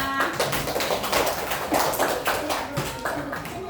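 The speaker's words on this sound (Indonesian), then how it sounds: "Tepuk tangan dulu dong untuk semuanya." A class of young schoolchildren claps together in an elementary classroom, a dense, steady patter of small hands lasting a few seconds, with children's voices mixed in.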